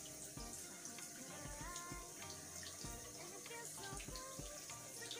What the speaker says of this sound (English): I'm just going to soak it with a warm water